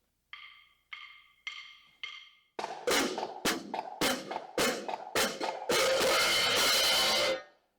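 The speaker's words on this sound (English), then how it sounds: "we're going to do 2 crashes. So it'll sound something like this." A marching drumline hi-hat pattern: three crisp, bright cymbal strikes spaced evenly, then a series of harder cymbal hits that end in a sustained crash wash.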